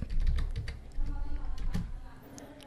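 Quick keystrokes on a Windows computer keyboard tap out a command in short irregular bursts, close and clear, with faint talk underneath.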